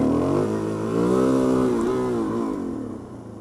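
A motorcycle engine revs up and holds at a loud, steady high pitch for a few seconds on a ride, then the revs ease off slightly as the sound fades a little.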